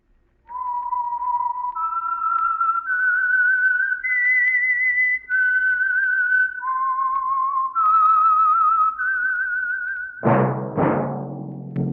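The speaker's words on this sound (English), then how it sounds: "That whistle is your signal for the Whistler." A person whistles a clear, melodic tune of sustained notes stepping up and down, ending with a sudden loud burst of a different sound.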